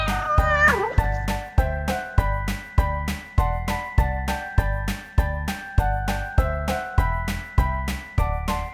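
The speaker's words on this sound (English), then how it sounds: "Of course, it's a cat." A cat meows repeatedly in a clear, even rhythm of about one call per second, each mewing tone sitting over a steady beat of backing music.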